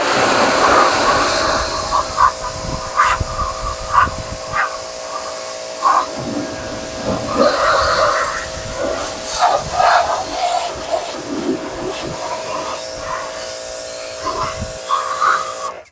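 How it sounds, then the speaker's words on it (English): A pressure washer blasts caked-on dirt off a garden tiller, a loud, close, continuous hiss broken by sharper spray bursts as the jet hits the metal. "This free pressure washer seems to have worked out fantastic because it works fantastic."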